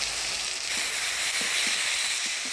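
A ground spice paste of coriander, cumin and ginger sizzles in hot oil with a bright, continuous hiss, broken by a few faint soft pops.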